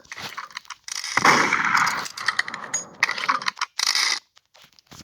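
Gunfire in a video game, with bursts of sharp shots and clattering impacts in quick clusters separated by brief gaps, loud and close.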